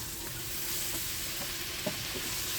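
Onions and tomatoes fry together in a pan and are stirred well. A soft, even sizzle carries faint spoon strokes and one small clink.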